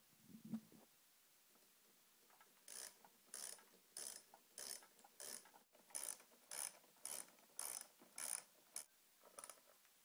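Screws being tightened down to fasten a TC G-System guitar effects unit to a pedal board, heard as a close series of about ten short ratcheting, clicking bursts in a steady rhythm with brief pauses between turns.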